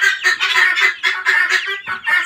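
A red Brahma chicken rooster calls nearby in a loud, harsh run of repeated honking cries with short breaks.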